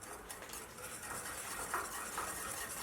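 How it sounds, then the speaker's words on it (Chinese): Two egg yolks being whisked with sugar, lemon juice and grated lemon zest in a bowl, a soft, steady scraping and stirring that stays quiet and continuous throughout. "把蛋黄搅拌均匀"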